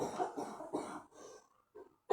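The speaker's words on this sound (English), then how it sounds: "Disappearing to cough again." Several quick coughs from a person indoors in a home setting, three strong bursts followed by softer trailing ones and a short silence, then a final sharp cough at the end.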